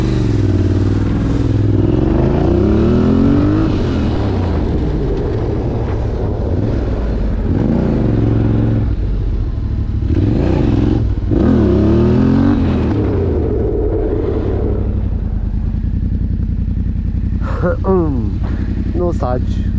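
Yamaha Raptor 700 cc quad engine revving loudly and pulling away, with rising and falling engine sweeps, clatter and rumble, while people talk over it throughout.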